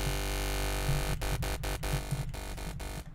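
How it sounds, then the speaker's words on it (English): A bass line processed through NI Supercharger GT in its hot saturation mode, thick and sizzling, with a steady gritty drone broken by several short rhythmic gaps and stabs. "this does let you get kind of like that sizzling hot saturation"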